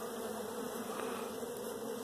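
Steady, dense buzzing of many honey bees during a spring hive inspection, a continuous droning hum close by with no pauses.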